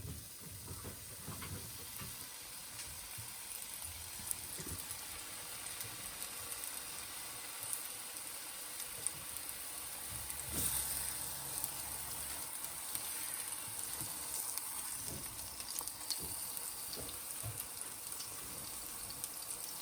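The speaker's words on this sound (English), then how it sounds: "Now we can start to grill the eggplants" Eggplants grill in a pan, giving off a soft, steady hiss and sizzle that stays faint and even throughout, with a few small bumps and no talking.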